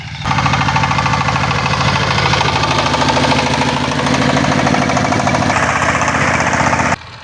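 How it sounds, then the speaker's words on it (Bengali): A rice threshing machine runs in a farm field with a loud, steady mechanical drone and rapid knocking pulses throughout, then cuts off abruptly just before the end. "দেখেন কত সুন্দর ধান মারাই মেশিন"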